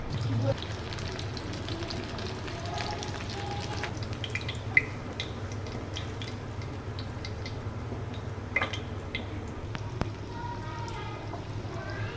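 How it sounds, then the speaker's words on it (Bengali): Paneer pieces coated in cornflour, flour, chilli powder and salt fry in hot oil for a chili paneer dish, a steady low sizzle running throughout with a few faint clinks and taps, no voices. "তেল গরম হয়ে গেছে, এবার আমি পনিরগুলো ভেজে নিচ্ছি"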